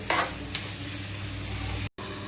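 Spices fry in a pan for a traditional Assamese muri ghonto, a continuous soft sizzle with a couple of brief clinks at the start and a short break near the end.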